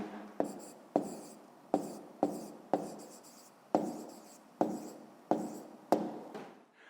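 Pen strokes on paper while an answer is written down, about nine short scratchy bursts in an uneven rhythm, close and clear with no talk.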